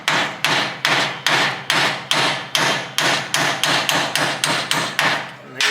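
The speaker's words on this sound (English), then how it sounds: "I got my little brass hammer here." Steady brass hammer taps on a nut during kingpin replacement on a 1957 GMC truck, about fourteen evenly spaced strikes, close and crisp with short ringing decay, no voices.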